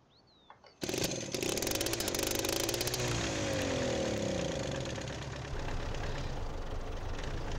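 In Farming Simulator 19, a diesel engine with a small gasoline starter engine cranks briefly and catches, then runs steadily at a loud, rough idle with a constant mechanical rattle.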